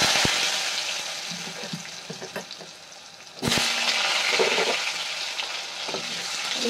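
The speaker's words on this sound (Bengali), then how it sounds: "আলুগুলো ভেজে নেব" Potatoes fry in a little oil with turmeric and salt, giving a steady close sizzle broken by scraping stir strokes and a sudden louder burst of spitting partway through, with no voices.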